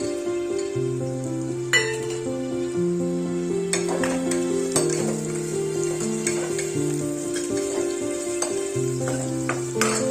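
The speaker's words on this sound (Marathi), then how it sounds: "कांदा छान परतला गेल्यानंतर त्याच्यामध्ये गाजर टाकू," Carrots going into a pan of sautéing onion and garlic, a steady frying sizzle with occasional clinks of a utensil against the pan, while background music plays throughout.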